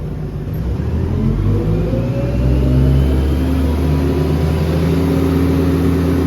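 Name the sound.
Claas Scorpion telehandler engine at full throttle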